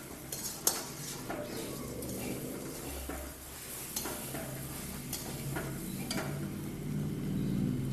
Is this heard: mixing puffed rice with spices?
yes